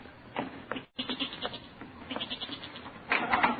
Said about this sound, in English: That goat. I heard him in our cellar.